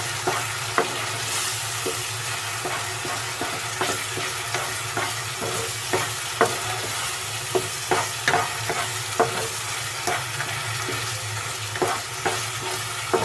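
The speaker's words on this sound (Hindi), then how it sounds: "इस तरह से आपने चम्मच चलाना है।" A spoon stirs beef keema frying over medium heat in a pan, scraping and clinking in a steady, irregular rhythm over a constant close sizzle, with no talking.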